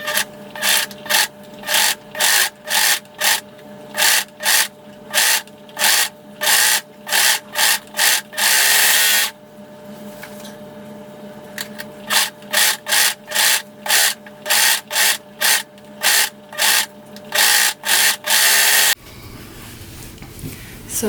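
A serger or zigzag sewing machine stitches T-shirt fabric, loud rapid bursts of mechanical whirring in repeated short runs separated by brief pauses, one longer stretch midway and a softer rustle of fabric at the end.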